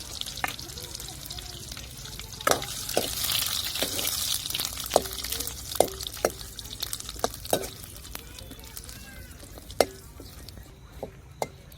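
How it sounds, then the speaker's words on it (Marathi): Grated coconut frying in a pan for a bitter gourd vegetable dish, giving a steady soft sizzle broken by sharp intermittent clicks and taps of stirring, close by, with no speech. "तर आता खोबरं तळून घ्यायचं"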